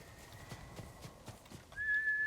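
Horse hooves galloping in the video game Ghost of Tsushima, a steady run of soft thuds at moderate distance, joined near the end by a louder sustained tone in the game's soundscape.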